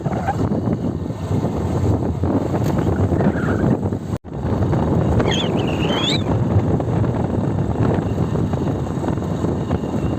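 Strong wind blows through a Devgad Alphonso mango orchard, roaring steadily against the microphone as a loud, continuous rush with only a brief dropout partway through.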